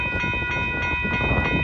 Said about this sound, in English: here's our track 2 westbound freight train